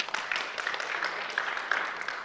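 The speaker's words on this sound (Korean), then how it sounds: "야, 이거 박수 한번 해드려야겠네요, 진짜" A church congregation at a Wednesday Bible study claps steadily for about two seconds, a dense patter of hand claps at moderate loudness with no voices over it.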